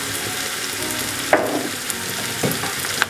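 Chicken sautéing in a pan with chili powder and coriander powder for a Punjabi chicken dish, a steady low sizzle with a few scraping stirs of the spoon, close and alone without talk.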